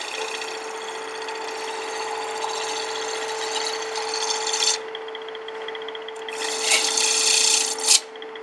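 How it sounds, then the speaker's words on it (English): Wood lathe tool shear scraping a spinning wooden plate, a steady rasping rub with a constant hum underneath, close and continuous, with brief louder scraping bursts near the end. "now I'm going to shear scrape."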